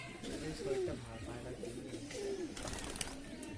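A pigeon coos twice in soft, low, rounded calls set against steady outdoor background noise. The calls sound fairly distant and faint, with no other prominent sounds around them.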